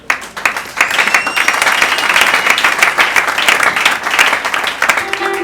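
Church audience applauding together, a dense, steady wash of clapping that starts almost at once and holds loud and even throughout.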